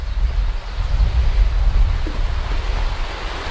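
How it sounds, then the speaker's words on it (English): Small waterfalls along the West Rim Trail in Pennsylvania's Grand Canyon, a steady close rush of falling water with a low, even roar and no talk. "There are literally like small waterfalls every 50 to 100 yards."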